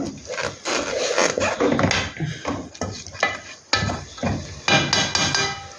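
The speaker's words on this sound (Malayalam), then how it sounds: "നമ്മൾ ആ തവിയുടെ കണ വെച്ചൊന്ന് ഇളക്കി നോക്കുന്നു." A ladle stirs cooked green gram leaves in a pot for a village-style thoran, making repeated close scraping and knocking strokes in an irregular rhythm, loud and with no talk.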